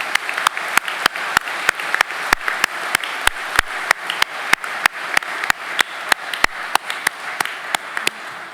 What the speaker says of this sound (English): Please join me in a round of applause for all of the friends, family, and shipmates